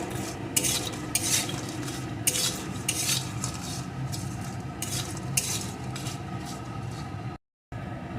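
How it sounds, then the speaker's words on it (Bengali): Raw lentil dumplings being mixed with turmeric powder and raw mustard oil in a bowl, giving steady scraping and stirring with a few sharper clinks of a utensil against the vessel, close and fairly continuous with a brief gap near the end. "একটু হলুদ গুঁড়ো একটু কাঁচা সরিষার তেল এখন সমস্ত কিছু ভালো করে আমি আগে মিশিয়ে নেব"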